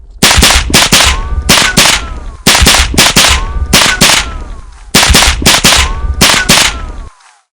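Video game gunfire during a spy roleplay session: loud, close bursts of rapid gunshots in three clustered volleys of several rounds each, with whizzing ricochet-like tones between cracks, ending abruptly in silence and no voices.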